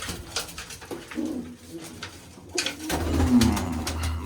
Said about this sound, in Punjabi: ਰਾਤ ਨੂੰ ਖੁੱਡਿਆਂ 'ਚ ਲੱਗ ਗਈ ਹਵਾ ਠੰਡੀ ਤੇ ਆ ਬੈਠੇ ਜੀ ਕਬੂਤਰ